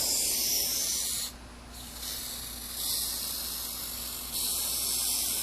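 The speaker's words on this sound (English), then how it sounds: "I'm going to spray around the edge first." Spray adhesive hisses from an aerosol can onto a 2010 VW Jetta door card, a close, steady spray that cuts out briefly and then resumes in longer bursts.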